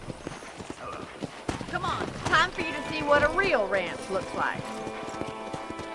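In the video game Red Dead Redemption, horse hooves clip-clop at a steady walking pace beneath continuous spoken dialogue.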